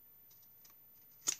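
Scissors trim a leftover strip of paper from a scrapbook album: a few faint light clicks, then one sharp, close snip near the end.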